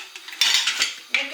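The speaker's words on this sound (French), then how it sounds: "On met le couvercle" A metal lid is set onto a cooking pot of bean and green bean soup, a brief series of light clinks and a sharper clatter, close by with no talk.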